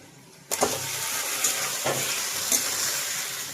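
Spicy chilli potatoes fry in a pan as a spatula stirs them. Sizzling begins abruptly, then continues as a steady hiss, broken by a few scraping strokes against the pan.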